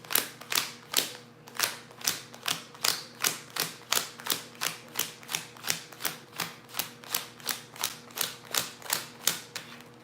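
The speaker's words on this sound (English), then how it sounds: "All right, let me shuffle up." Cards are shuffled for a reading in a fast, steady run of crisp riffling clicks, about two per second, close and fairly quiet with no talk.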